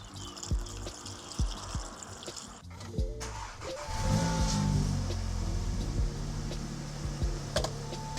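Coolant glugs and trickles as it is poured into the engine of a crashed Audi S3, with a louder steady pour midway and scattered sharp clicks and knocks around it.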